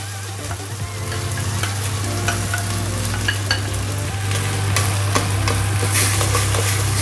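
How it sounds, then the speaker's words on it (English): Thyme and garlic sizzle and roast in a pot for Caribbean provision soup, a steady close frying hiss with faint stirring clinks and scrapes throughout, no talking. "The thyme is roasting with the garlic."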